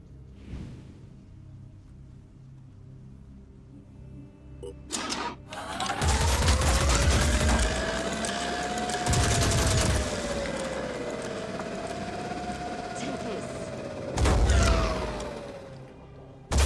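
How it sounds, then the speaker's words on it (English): Heavy booming cannon fire in the video game Phoenix Point pounds repeatedly alongside a rising and falling whine, with loud blasts near the start and end of sustained mechanical din. "That's a cannon."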